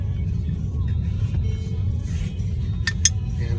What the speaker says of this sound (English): taking a quick ride in the car to show how nice and quiet it is in here